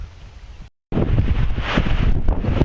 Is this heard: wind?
yes